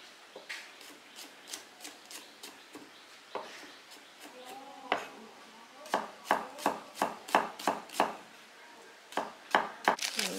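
Scallions are chopped with a knife on a cutting board for marinating fish, a series of sharp, close knocks in uneven bursts, quicker in the second half, alone without talk.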